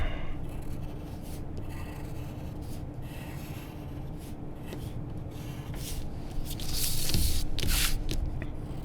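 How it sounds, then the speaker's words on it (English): An eraser rubs pencil marks off paper in close, repeated scrubbing strokes that grow louder and denser toward the end. "And then I'm going to erase my pencil marks."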